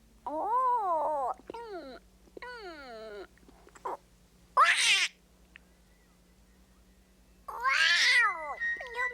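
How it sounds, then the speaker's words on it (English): A cartoon cat meows over and over in drawn-out, wailing tones, loud and close, broken up by short breathy bursts and a steady low hum beneath. "Meow, meow, meow."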